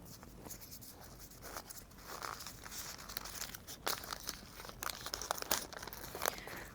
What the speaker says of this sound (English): Generally, we use the oil paper to wrap it up.